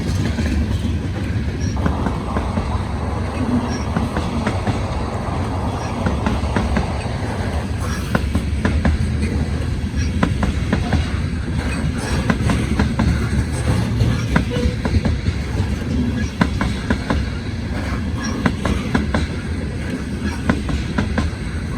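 A heavy freight train loaded with grain rolls steadily past nearby, loud rumbling with rhythmic clickety-clack of wheels over rail joints throughout, continuous and unbroken.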